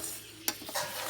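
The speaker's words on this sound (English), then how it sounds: "Don't try to burn it, so keep on stirring." Homemade bird breeding formula for budgies, lovebirds and finches is stirred in a pan as it warms over a low simmering gas flame, giving a short, quiet scrape with one sharper tap and a faint sizzle.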